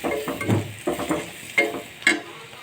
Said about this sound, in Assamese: পিঁয়াজখিনি ৰঙচুৱা নোহোৱালৈকে মই ভাজি লৈছোঁ